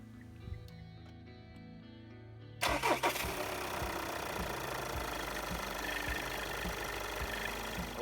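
A VW 2.0 TDI diesel engine cranks and catches about a third of the way in, then settles into a steady, knocking idle.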